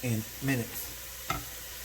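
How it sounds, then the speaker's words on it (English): Chopped onion sautéing in a pan as part of a pan sauce for osso buco, a faint steady sizzle with a couple of brief voice-like sounds early on and one sharp utensil tap near the end. "Put in a little onion. And we're going to saute up."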